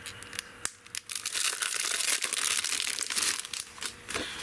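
Crafting paper handled during an unboxing, with close crinkling and rustling of sheets, crisp crackles and a few sharp snaps, steady and near without any talk.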